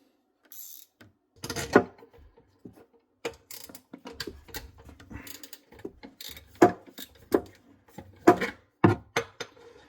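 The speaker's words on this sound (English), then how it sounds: "I've got a kick-ass wrench set with a ratchet built into it" A ratchet wrench turns an 11mm nut on a bathroom faucet, giving repeated clusters of quick, close metallic clicks and ratcheting bursts separated by short pauses, with no talking.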